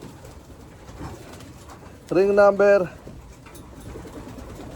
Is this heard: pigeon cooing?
yes